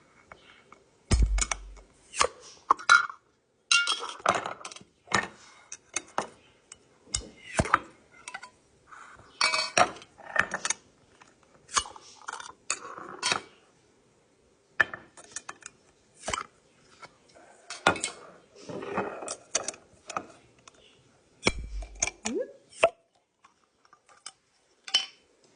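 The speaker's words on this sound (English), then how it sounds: "Okay, let's open our jars." Glass jars clink, tap and rattle in a home kitchen while canned diced tomatoes and beans are prepared, a run of sharp, close, irregular clinks and knocks with brief pauses between them.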